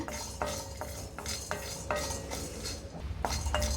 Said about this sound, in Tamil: அடுப்பை ஸ்விட்ச் ஆஃப் பண்ணிவிட்டு ரோஸ்ட் பண்ணிக்கோங்க